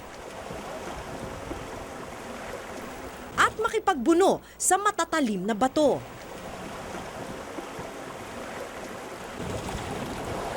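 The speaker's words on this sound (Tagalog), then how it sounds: "kailangan mong makipagsabayan sa rumaragasang tubig" Rushing river water churns beneath a boat heading to Pagsanjan Falls, a steady broad roar throughout, with someone briefly speaking over it midway.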